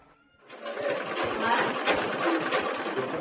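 Sewing machines whir steadily in a tailoring school where women learn to sew, a continuous busy mechanical hum starting abruptly and running on at moderate level.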